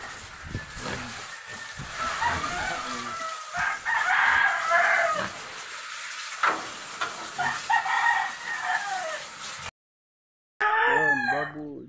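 A rooster crows during a family outing by the sea, several rising call bursts standing out over a busy, noisy background with a voice heard speaking briefly.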